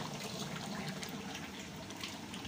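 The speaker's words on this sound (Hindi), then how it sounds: "अभी हम पानी डालने लगे हैं।" Water pouring steadily into a large pot of chicken and vegetable biryani being cooked in bulk for a wedding hall, with about 12 kilos of rice; a continuous close splashing rush that runs alone without talk before cutting off.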